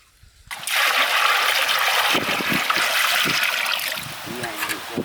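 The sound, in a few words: water being poured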